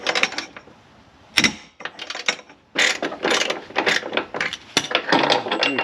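A long, Loctite-coated rear suspension bolt on a 2004 GTO is wrenched out in bursts of ratcheting clicks, with short pauses between runs of close, sharp mechanical clatter.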